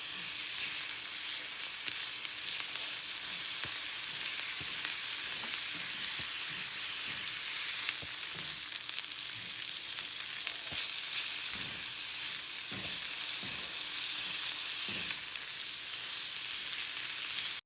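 Lamb meat frying in a hot pan, a steady bright sizzle throughout with occasional soft pops and spatter, close and continuous, no talking.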